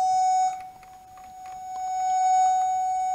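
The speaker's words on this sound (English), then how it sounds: "showing a wine glass breaking at its natural frequency." A loud, steady pure tone sounds to make a wine glass resonate at its natural frequency, holding nearly constant with faint higher overtones and slight wavering in loudness.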